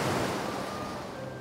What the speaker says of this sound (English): there's something so healing about water. I love the sound of it.